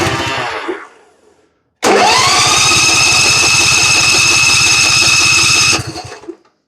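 John Deere Z335 riding mower with a starting fault being cranked: a short starter whir fades out, then the engine catches and runs at a loud, steady, buzzing throb for about four seconds before shutting down.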